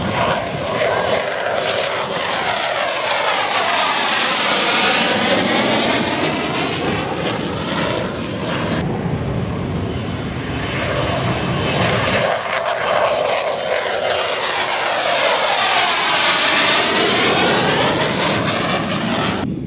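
A loud KT-1 Woongbi propeller trainer aircraft engine roars continuously during takeoff, its pitch sweeping as the plane passes close by and accelerates away, then another follows.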